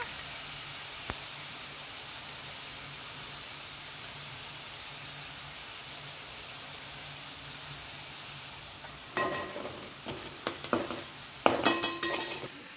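Onions fry in a pan for a prawn and egg ridge gourd curry, giving a steady, even sizzling hiss. Toward the end, a series of clattering scrapes and knocks breaks through.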